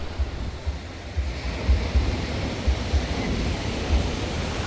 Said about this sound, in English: we got settled in here at the beach at Punta de Mita, one of the beaches